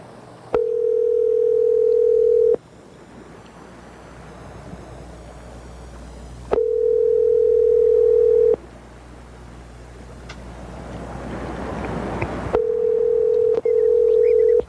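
A telephone ringback tone on an outgoing call repeats three times, each steady two-second tone separated by long pauses filled with low hiss, clear and prominent with no speech.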